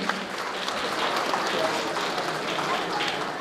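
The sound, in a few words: audience applause for sponsors at charity gala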